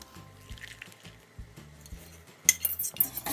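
Metal whisk tapping and scraping rhythmically against a saucepan of cream over medium heat, a steady clinking beat, then a brief louder bubbling hiss near the end.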